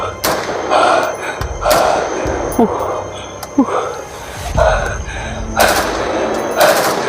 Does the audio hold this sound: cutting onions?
no